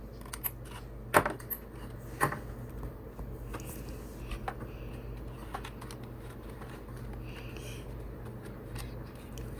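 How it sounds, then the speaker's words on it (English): A small circle punch bites halfway into a paper flap for a mini Halloween treat box, giving a couple of crisp, sharp clicks followed by faint handling rustles in a quiet room. "I'm just using a small circle punch and going to punch it halfway through."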